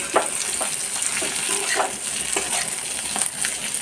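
Cauliflower fries in a pan with a steady close sizzle, broken by intermittent scraping stirs and a few light clinks of utensil against the pan; no voices.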